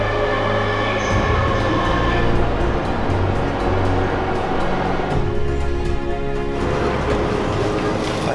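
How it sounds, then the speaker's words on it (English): Steady interior rumble of a Japanese bullet train travelling from Tokyo to Kyoto, with a constant low hum, rail noise and a faint high whine, loud and close throughout with no talk. "Ready for your first bullet train experience?"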